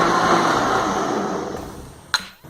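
A kitchen blender whirs loudly while blending pumpkin for a chicken and pumpkin soup, a steady grinding whine that slowly fades, then stops with a short clunk near the end.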